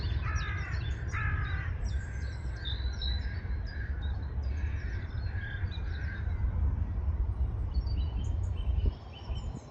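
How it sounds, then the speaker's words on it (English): Recorded bird distress calls blare from a bird-scaring system at Manchester Airport, harsh repeated crow-like squawks in bursts over a steady low rumble and faint insect-like chirring. "that's how you get rid of birds from an airfield. You scare them. Like bird distress calls."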